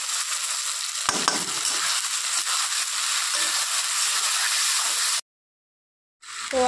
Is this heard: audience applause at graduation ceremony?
no